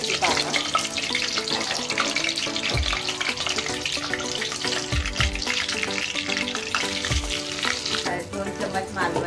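Bay leaf and curry leaves fry in hot oil, giving a loud, steady sizzle with crackles. Tonal background music plays throughout, and a few low thumps stand out.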